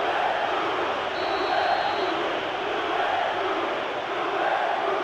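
A stadium crowd roars steadily in the PES 2013 football video game as a free kick is taken, a dense and sustained wash of cheering with no clear commentary over it.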